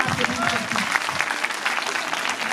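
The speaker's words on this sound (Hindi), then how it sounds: "आप सब तैयार हैं तो एक बार मुझे ताली बजा करके आदेशित कीजिए" A poetry-recital audience claps in sustained, dense applause at a kavi sammelan, steady and fairly close throughout, with a voice faintly present underneath.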